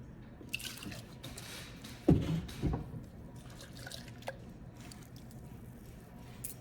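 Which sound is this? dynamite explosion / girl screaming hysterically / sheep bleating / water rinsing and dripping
water rinsing and dripping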